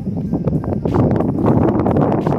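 Steady, blustery wind on Osmeña Peak buffets the microphone with low rumbling gusts and rustling, continuous throughout and fairly loud.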